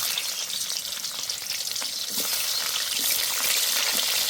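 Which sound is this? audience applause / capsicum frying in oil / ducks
capsicum frying in oil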